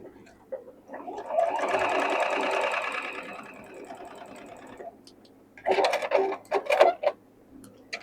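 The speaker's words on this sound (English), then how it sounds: "Then we're going to sew this one onto here." A sewing machine stitches pieces of a Tula Pink modern quilt block together in two runs: a steady whirring stretch, a quiet pause, then a shorter, choppier burst.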